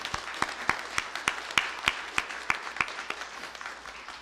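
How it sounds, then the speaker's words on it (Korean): A church congregation applauds the choir during a Sunday worship service with a steady, evenly spaced rhythmic clapping that is fairly faint and distant and gradually fades. "박수하겠습니다."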